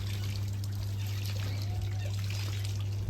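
Natural mountain spring water pouring into a water bottle, a steady trickling stream under a constant low hum.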